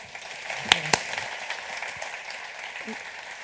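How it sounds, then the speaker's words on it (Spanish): Brief applause from the audience of a business panel on labor law, a diffuse wash of clapping with a couple of sharp nearby claps near the start, heard over a low steady room hum. "Un fuerte aplauso para ellos."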